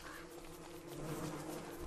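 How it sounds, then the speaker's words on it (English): Bees in the video game Don't Starve Together buzz in a faint, continuous swarming hum, quiet and steady with no voices. "The bees keep finding the things."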